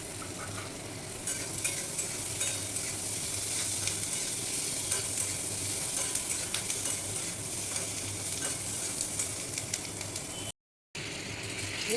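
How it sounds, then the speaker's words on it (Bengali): Chopped capsicum stirred and frying in a pan for chilli paneer, a steady crackling sizzle with repeated scraping stir strokes throughout, close and fairly loud, no talk. "টুকরো করে রাখা ক্যাপসিকামটা দিয়ে দিলাম।"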